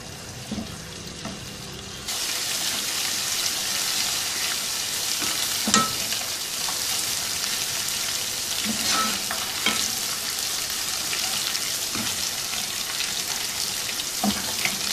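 Ginger garlic paste hits a third of a cup of hot oil in a pan over medium heat for achar gosht. A quiet start gives way to a loud, steady, close sizzle with occasional stirring clicks.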